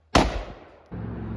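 One loud, close AR rifle shot cracks out and booms away over about a second, fading before steady outdoor background noise returns.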